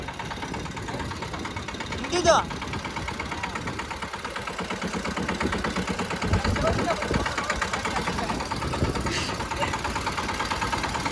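A tractor engine runs steadily with a rough, chugging idle as the clutch is let out, a person talking over it throughout.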